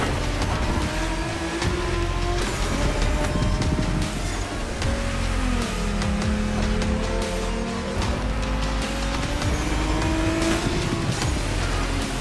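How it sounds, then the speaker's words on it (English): Japanese drift race cars in The Crew Motorfest scream through a race, with engines revving and whining in rising and falling pitch alongside tire noise, a loud continuous roar with no voices. "racing these Japanese drift masters"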